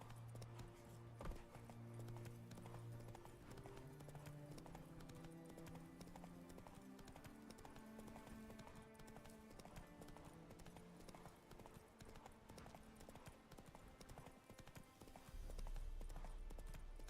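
The horse Roach galloping in the video game The Witcher 3, a fast, steady clip-clop of hooves running continuously over game music.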